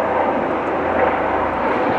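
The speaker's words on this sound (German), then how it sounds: "Nee, es klingt wie ein Hubschrauber." Helicopter flying overhead: a loud, steady broadband engine and rotor roar holding at constant strength with no variation throughout.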